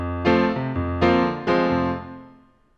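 Solo piano plays the closing bars of the intro to a song, three sustained chords struck about half a second apart over a low bass, ringing close and clear and then fading out.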